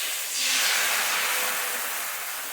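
Neer dosa batter is poured onto a hot pan and flares into a broad, steady sizzling hiss that swells after a moment and then slowly eases, close and continuous with no talk.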